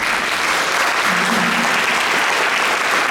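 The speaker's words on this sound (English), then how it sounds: "So let's give them a round of applause for that." An audience at a scholarship award ceremony applauds the recipients, dense and sustained clapping filling the room, loud and steady throughout with a faint voice briefly underneath.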